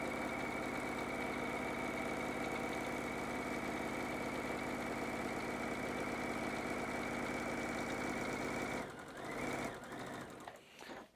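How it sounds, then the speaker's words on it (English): A sewing machine runs steadily up close, stitching through two layers of canvas fabric and fusible fleece for a tote bag, a long continuous motor drone with fast needle chatter that slows and stops near the end. "I'm just going to stitch along, securing all 4 layers, the 2 layers of the canvas Spam fabric and the layers of the fusible fleece here."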